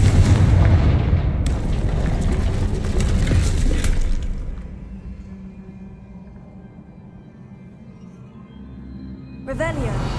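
A Confringo blasting spell explodes in the Hogwarts Legacy video game, a loud rumbling boom that decays over several seconds into quieter ambience before another sound rises at the end. Someone talks briefly.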